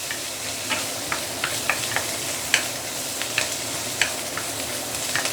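Pickled mustard greens sautéing in a hot pan make a steady sizzle and hiss, broken by scattered light clicks and scrapes of stirring, close up with no voices.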